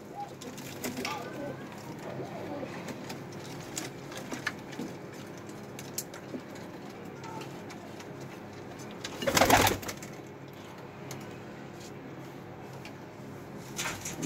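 Pigeon being handled by hand, giving soft coos and faint wing and body rustles over low background noise, with a brief louder flutter or handling burst near the end.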